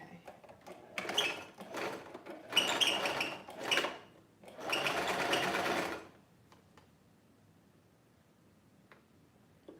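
A sewing machine stitches a seam on a top made from an old T-shirt, running in a few close bursts of steady mechanical whirring and stopping after about six seconds, then near silence.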